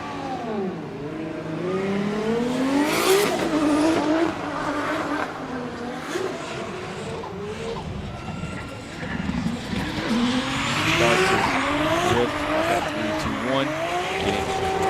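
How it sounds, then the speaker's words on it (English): JCX100 Chaser drift car sliding through a qualifying run at Okayama International Circuit, engine revving hard and rising and falling with gear changes, tires squealing throughout, loud and close with crowd or commentary noise underneath. "Up next is car number 131, Yuma with Team Orange Jr. and his JCX100 Chaser"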